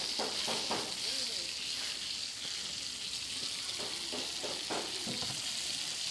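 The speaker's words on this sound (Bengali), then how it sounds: "এই দেখেন এখন ভাজা হচ্ছে রোস্ট সেরকম করে ভাজছে আমার ভাবি" A roast fries in a pan with a continuous, moderately quiet sizzle and occasional stirring scrapes. Faint voices can be heard briefly underneath.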